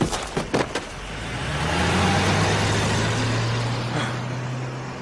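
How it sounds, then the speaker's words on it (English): A car engine rumbles up close and rises into a sustained droning roar as the vehicle reverses at speed. A few sharp knocks come at the start, and the steady engine tone holds after them. "Then I heard one skid to a halt and reverse at speed."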